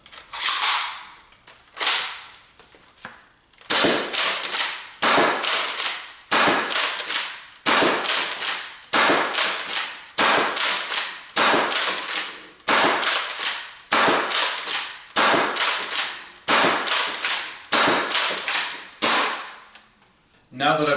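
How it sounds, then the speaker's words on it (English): An Adventure Force Nexus Pro dart blaster firing half-length darts in a rapid, steady string of about twenty sharp, snappy shots, each followed by a brief mechanical whir, loud and close with no talking. "Now that I've put a good amount of darts through the Nexus Pro, let's talk about the firing experience"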